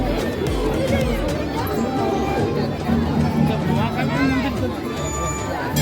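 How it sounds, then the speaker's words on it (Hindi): Devotees crowd an Ujjain temple at evening, a dense babble of many overlapping voices and footsteps that stays steady and close throughout. "और ये सब भीड़ है।"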